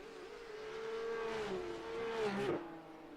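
Porsche Cup race cars in a racing video game drone past on track, one engine note holding steady and then climbing through revs before a sharp shift, moderately loud with no voices.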